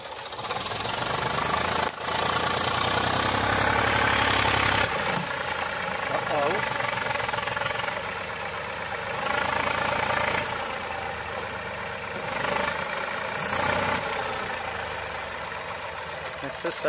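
A STIHL MS 500i chainsaw engine runs steadily and loudly in a forest with a droning, slightly rough tone, shifting a little in pitch, while voices talk over it now and then.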